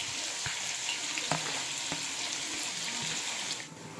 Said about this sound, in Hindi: अब मैं इसमें प्याज डालूँगी और प्याज का ब्रिस्ता बना के लूँगी।